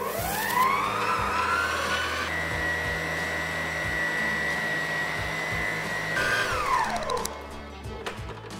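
A kitchen mixer with its lid down spins up with a rising whine, holds a steady loud motor drone for several seconds while quickly mixing eggs for spelt brioche, then winds down.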